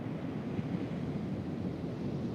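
Ocean surf rolls at Huntington Beach by the pier, a steady broadband wash of breaking waves mixed with wind buffeting the microphone, continuous with no distinct individual breaks.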